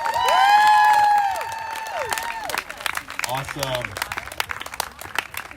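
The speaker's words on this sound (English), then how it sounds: "Another round of applause" A crowd at a Juneteenth celebration cheers and whoops loudly after a performance, then settles into scattered sharp claps as the cheering fades and a voice speaks briefly.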